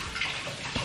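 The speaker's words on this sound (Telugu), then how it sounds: "Water sound." Running water pours in a brief, steady broadband rush, close and fairly loud, with no voices.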